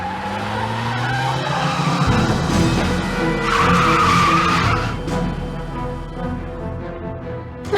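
A sports car in Broken Sword 3: The Sleeping Dragon skids past in Paris, its engine swelling and tires squealing loudly across several seconds before the roar fades, with no one speaking.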